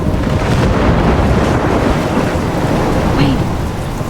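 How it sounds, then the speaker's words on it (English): A thunderstorm in the video game Life is Strange, with heavy rain and wind forming a loud, dense, continuous roar. "I'm trapped in a storm?"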